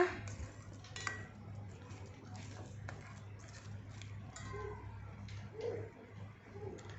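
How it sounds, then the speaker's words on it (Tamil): Village-style crab curry is stirred in a cooking pot, giving faint, sparse metallic clinks and scrapes of a utensil against the vessel over a low steady hum in a quiet kitchen. "இதை இப்போ நல்லா கிளறி விட்டுக்கிறேங்க."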